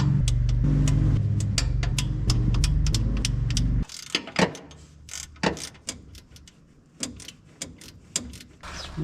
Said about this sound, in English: Now we got our little mini torque wrench. We're gonna be torquing these fools down.